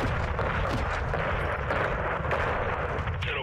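Heavy 40mm cannon fire and explosions rumble continuously in Modern Warfare 2 (2022), a dense, booming barrage of blasts and impacts with distant radio chatter faintly underneath.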